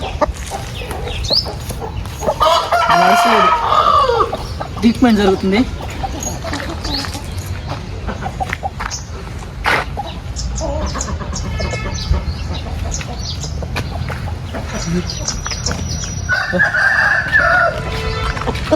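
Roosters and hens on a rooster farm, bursts of crowing and clucking near and far, heard under someone talking throughout.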